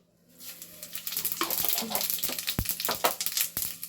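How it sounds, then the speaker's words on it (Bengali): Cumin seeds hit hot oil and burst into a brisk crackling sizzle with sharp spitting pops, rising quickly after a quiet start and staying busy and close with no talking. "তেলের মধ্যে আমি একটু জিরে ফোড়ন দেব।"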